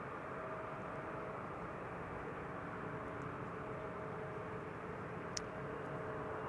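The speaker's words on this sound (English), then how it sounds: "The A300 is rolling this way." An Airbus A300 taxiing at Amsterdam Schiphol Airport gives a steady, distant jet engine drone and rumble that holds level throughout, with a faint whine above it.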